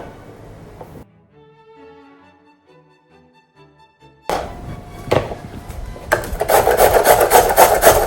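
Potatoes rubbed on a hand grater in a home kitchen: after a quiet lull, loud, close rasping strokes start and repeat rhythmically, growing denser and steadier toward the end, with no talking.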